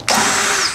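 A power drill runs steadily for under a second, a loud continuous high whine as it bores a hole for tapping a bolt thread, working on a 1957 Chevrolet.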